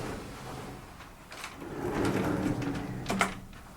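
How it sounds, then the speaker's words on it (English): Sliding doors in a hotel mini suite glide along their track with a muffled rolling rumble, ending in a sharper knock as they stop, close by and with no talk over it. "Sliding doors."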